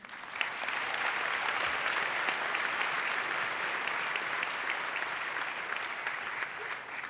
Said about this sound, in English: And let's have a round of applause again for all of our award winners.